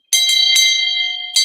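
A bright, clear bell rings close and loud, struck several times in quick succession, with a sustained metallic tone that holds between strikes and fades slightly before a final stroke.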